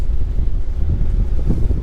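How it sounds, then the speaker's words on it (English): Strong wind of about 17-18 knots buffets the microphone on a sailboat on Newtown River with a low, rumbling roar, loud and continuous, with faint water sounds beneath. "It's fairly windy."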